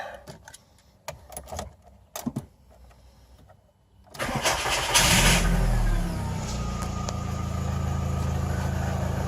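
A Volkswagen Golf engine cranks after a few quiet clunks and catches, then settles into a steady, loud idle that keeps running.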